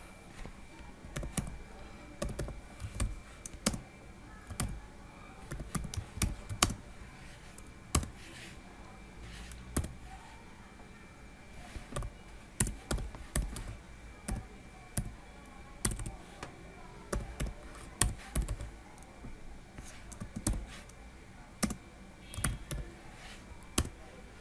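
Python code is typed on a computer keyboard in irregular clusters of crisp key clicks, close and moderately loud, with pauses between bursts and a faint steady background hum.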